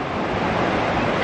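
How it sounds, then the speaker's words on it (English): Ocean surf breaking on a beach on a windy day, a loud, steady broadband roar with no pauses and no voices. "Maybe if the waves were calmer, I would have jumped in."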